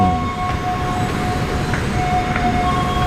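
KRL electric commuter train rolling along the line toward Rangkasbitung, a continuous loud rumble with steady tonal hums from the motors or brakes, no talking.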